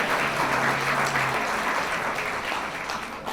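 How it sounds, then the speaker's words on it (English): Steady applause from a crowd at a retirement celebration, dense clapping that fills the room and slowly tapers off toward the end. "give them a nice round of applause for our servers."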